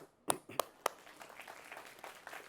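Audience applause at a wellbeing talk event: three sharp, separate claps, then scattered lighter clapping that stays faint and distant.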